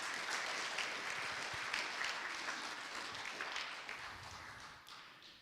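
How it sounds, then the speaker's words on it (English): A church congregation applauding at an annual meeting, a steady patter of many hands clapping at moderate distance, fading toward the end. "Let's give those folks a round of applause."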